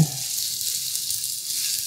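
Onions and bell peppers sauté in 1980s Visions glass cookware, giving a steady, bright sizzle that holds evenly at close range, with a brief low stir at the start.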